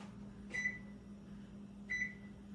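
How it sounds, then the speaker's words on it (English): Kitchen timer giving two short electronic beeps about a second and a half apart as it is set while raisins soak in water for cinnamon raisin biscuits, over a steady low appliance hum. "I'm going to set the timer"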